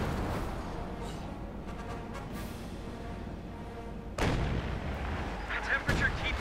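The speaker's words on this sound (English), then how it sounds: "Be careful there around the Sturmpanzer as it shatters lives with heavy high explosive rounds" A Sturmpanzer IV fires heavy high-explosive rounds in a Company of Heroes 2 match, heavy booming blasts with sharp crashing impacts that stand out over constant battlefield rumble and gunfire.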